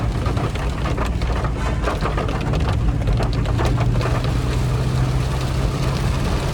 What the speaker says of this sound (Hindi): यहाँ भी बहुत तेज़ बारिश है